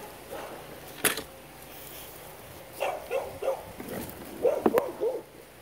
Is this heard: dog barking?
yes